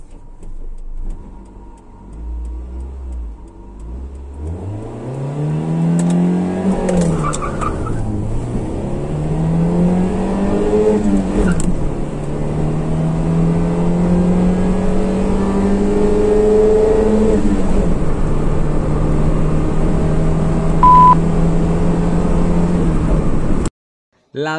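A stock Nissan Sentra B13 (Tsuru) with a GA16DNE engine runs 0 to 100 km/h in Bogotá. The engine note climbs steadily through several gear changes over about twenty seconds, loud and droning from inside the car.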